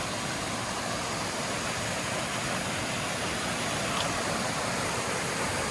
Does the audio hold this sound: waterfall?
yes